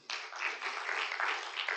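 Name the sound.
audience giving a little applause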